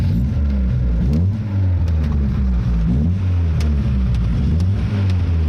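A Fiat 124 engine on old, stale fuel runs loud and rough close by, its low idle thrumming steadily with uneven pulses throughout.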